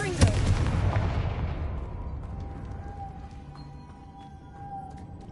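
A Confringo fire spell explodes in the video game Hogwarts Legacy: one loud, broadband blast that decays over a few seconds into a low rumble, with faint game tones ringing beneath it.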